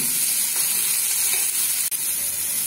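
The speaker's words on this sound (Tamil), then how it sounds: "நம்ம தக்காளியை போட்டுக்கலாம். இந்த புளியும் சேர்த்து போட்டு நல்லா வதக்கிடலாம்." Tomatoes and tamarind sauté in a pan with cabbage for a chutney, giving a steady, close broadband sizzle with a brief dip near the end.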